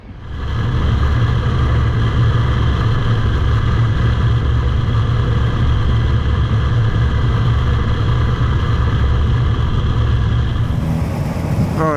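A 2016 Kawasaki Ninja H2 supercharged motorcycle being ridden: a loud, steady engine note with strong wind and road roar that holds constant for most of the stretch, then drops near the end.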